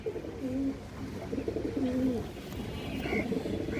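Pigeons in a loft, including a shadow-coloured bird, give low repeated coos in a few short bursts over a steady background hum.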